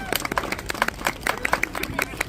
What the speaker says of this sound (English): a round of applause for our very bad lawyer